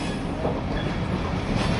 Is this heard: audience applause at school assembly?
no